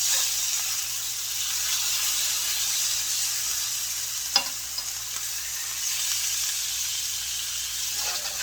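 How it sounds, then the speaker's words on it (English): Steady, even sizzling of food frying in a pan, a continuous bright hiss with one brief clink midway, no voices. "So this is going to sizzle for another probably 8-9 minutes before I put the sauce in."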